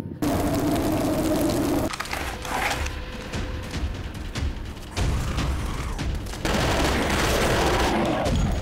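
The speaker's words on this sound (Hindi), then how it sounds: "ओ भाई जो गन हमें मिली थी, क्या शानदार फायरिंग मोड है इसका, देखिए" Sustained automatic gunfire in the video game Left To Survive, dense rapid shots with mechanical clatter running loud and continuous across the whole stretch, with no pauses and no talk.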